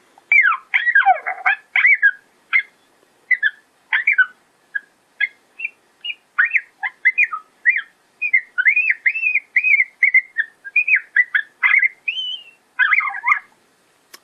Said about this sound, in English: the next one is the coyote pup